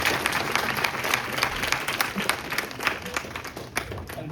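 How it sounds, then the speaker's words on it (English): An audience at a school science and culture event claps together, a steady, fairly close patter of many hands that holds for a few seconds without letting up. "Round of applause for her."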